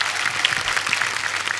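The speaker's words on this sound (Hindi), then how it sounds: "जोरदार तालियां" A studio audience on a comedy show breaks into brief, dense applause, a steady wash of clapping from many hands close by with no talk over it.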